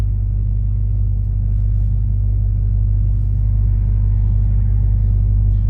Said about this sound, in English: we're going to take this Mustang on a test drive and see how it does